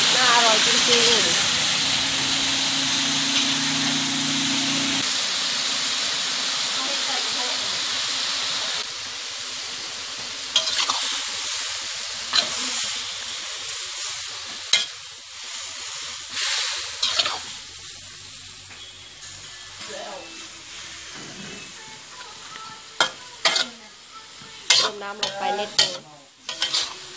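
Morning glory stir-fried with oyster sauce and garlic sizzles in a hot pan, with scraping and tossing strokes and steamy hiss, loud at first and then easing off; a voice talks intermittently over the cooking.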